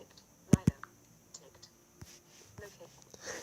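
A computer keyboard gives a few sharp clicks followed by scattered, quieter key taps, close and faint, with a little soft speech in the background.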